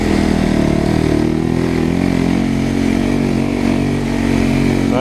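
A snowmobile engine drones steadily while riding a smooth trail, loud and close, with a constant mid-pitched motor hum and no talking.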